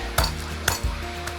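Crushed garlic hits a hot pan beside searing salmon, giving a brief sizzle with a few metallic stirring clinks, close and clear with no talk.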